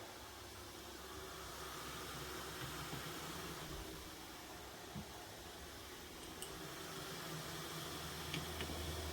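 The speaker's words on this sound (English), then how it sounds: "You can see all that steam escaping, but it's escaped in a safe way." Steam escaping from the lid of a steam canner, a soft, steady hiss with a low rumble underneath, continuous and fairly faint, running alone without voices.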